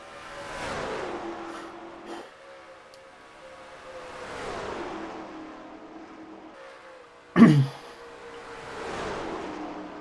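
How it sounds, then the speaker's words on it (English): NASCAR-style stock race cars at the Auto Club 300 in California roar past one after another, engines swelling and fading in repeated passes, with a sharp loud burst of noise partway through. "he holds off a snarling pack of cars to take the victory here today"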